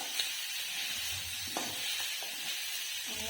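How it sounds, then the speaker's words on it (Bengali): Chopped onions sizzle in hot oil in a pan, a steady close hiss with occasional soft crackles and a few stirring clicks. "এবার আমি এই কুচিয়ে রাখা পেঁয়াজগুলো দিয়ে দেবো। এই তেলেই দিয়ে দিয়েছি।"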